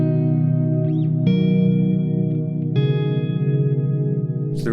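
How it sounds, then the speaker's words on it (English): Fender Hammertone reverb pedal on an electric guitar, with the damp control darkening the reverb: sustained chords ring out with a lush tail, three strums struck about a second and a half apart, each washing into the next, loud and alone. "as we introduce that damp now,"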